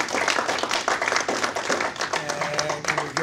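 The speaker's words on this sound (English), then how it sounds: "please a big round of applause" Audience applause at a poetry reading, continuous clapping from many hands with a faint voice underneath, steady and moderately loud for about three seconds.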